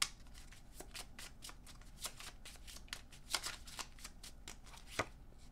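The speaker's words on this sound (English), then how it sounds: "Let's pull some Oracle cards" Oracle cards being shuffled by hand, a close, quiet, continuous riffle of rapid card flicks with occasional sharper snaps, no talking.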